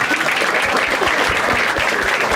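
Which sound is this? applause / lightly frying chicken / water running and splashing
applause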